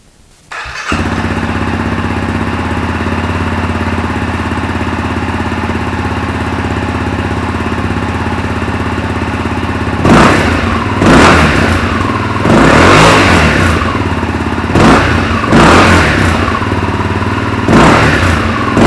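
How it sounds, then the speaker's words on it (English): A Honda CRF250L motorcycle with an Arrow exhaust and its silencer fitted starts up and settles into a loud, steady idle, then several sharp throttle blips rev the engine up and back down. "we'll start up and see what it sounds like with the silencer in."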